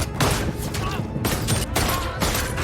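Rapid gunfire from an action film, with a young woman armed with several pistols opening fire on a gangster group; dense, loud bursts of shots crackle continuously across the whole stretch with booming low-end impacts.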